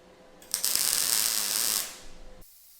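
An angle grinder cuts into tacked-on metal during a MIG welding build of folding chair storage, a loud close whine and hiss running for about a second and a half before winding down and stopping.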